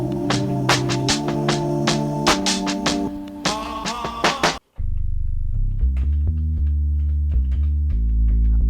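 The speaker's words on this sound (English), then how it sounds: "Now on track 5, we're going to have the glockenspiel." Bright, ringing metallic glockenspiel tones strike in a quick melodic pattern over a hip hop beat on an Elektron Octatrack, then cut off and give way to a lower sustained musical passage.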